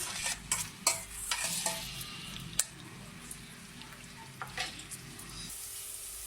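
Food browns and is stirred in a pan for a sugar bean curry, a steady close sizzle of frying under repeated scraping and clicking of a utensil against the pan, busier at first and then settling into a gentle sizzle.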